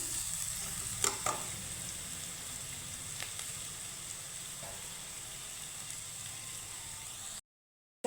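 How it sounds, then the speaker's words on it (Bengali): Onions frying gently in a pan over a low gas flame, a steady soft sizzle throughout with a few faint clicks, ending in a brief cut to silence. "কালার চুলিয়ে আসা অব্দি আমি ভেজে নেব পেঁয়াজটাকে"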